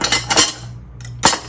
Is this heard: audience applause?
no